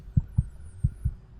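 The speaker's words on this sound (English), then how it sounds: "your heartbeat hasn't slowed back down" Fast heartbeat in an audio drama scene of panic, heard as two paired deep thumps, close and muffled, over a low hum.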